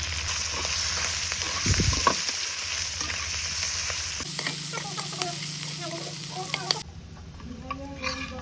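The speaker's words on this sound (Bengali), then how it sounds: "হয়ে গেল আমার ছোট মাছ ভাজি বেশি করে মরিচ পেঁয়াজ" Small fish fry in a pan with chili, onion and cumin, a loud steady sizzle broken by stirring scrapes, with the tone shifting as ingredients are added.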